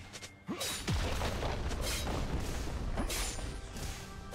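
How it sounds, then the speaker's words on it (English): Turret being destroyed in League of Legends, a loud crashing boom followed by rumbling debris and clattering game effects over a few seconds. "Red team's turret has been destroyed."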